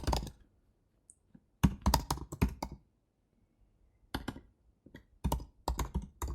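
Bursts of typing on a computer keyboard, close and crisp: clusters of rapid key clicks separated by short quiet pauses, with no talking.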